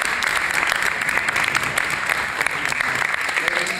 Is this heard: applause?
yes